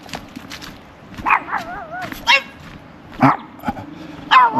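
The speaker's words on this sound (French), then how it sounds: "on est accueilli par les petits chiens" Small dogs greet walkers on a village lane near the end of a hike, with several short yappy barks and a whimpering yip spread over a few seconds, close by, while a person speaks briefly.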